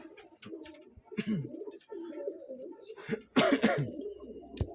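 A large pigeon in a loft gives several deep, throaty coos in short bursts, close by, with soft rustling between calls.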